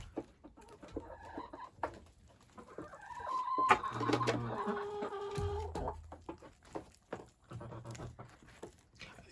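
Hens clucking and squawking repeatedly, close by, with one louder drawn-out cackle in the middle and scattered short clucks throughout.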